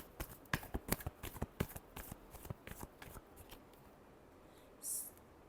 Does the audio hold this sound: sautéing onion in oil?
no